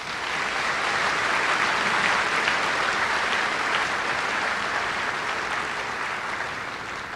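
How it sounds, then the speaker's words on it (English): High school commencement audience for the class of 2021 breaks into loud, sustained applause, a dense steady wash of clapping that holds for several seconds before tapering slightly. "can I get a round of applause for the administration, the teachers, and all the faculty"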